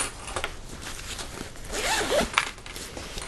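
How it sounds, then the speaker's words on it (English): A zipper on a bag's zippered pocket being pulled open, a short close-up ripping zip with a couple of quick sliding pulls. "has a zippered pocket on the other side"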